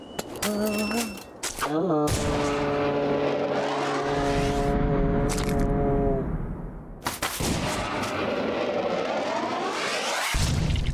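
Sharp gunshot cracks and booming blasts from a duel in a Western cowboy video game punctuate loud game audio, with sustained tones and engine-like roars between the shots.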